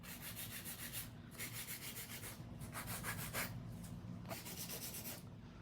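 Acrylic nails are filed with a 100 grit nail file: close, dry, scratchy rubbing in quick rhythmic bursts of back-and-forth strokes, with brief pauses between sets.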